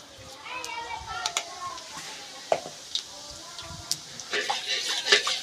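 Whole cumin seeds sizzle in hot oil in a home kitchen pan, a soft crackling hiss that rises toward the end, with a few clinks of utensils and voices talking over it, including children.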